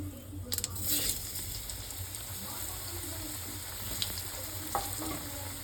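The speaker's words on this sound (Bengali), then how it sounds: "আলুটা লাল লাল করে ভাজা হয়ে গেলে" Potatoes fry in hot oil in a pan with bay leaves, whole garam masala and cumin, giving a continuous moderate sizzle over a low hum, with a few sharper spits and stirring clicks.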